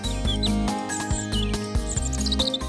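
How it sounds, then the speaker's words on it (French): A European robin sings in the Côtes d'Armor, Brittany, with a run of thin, high chirps and trills repeating over a steady, loud low tonal drone that runs throughout. "le rouge-gorge chante toute l'année"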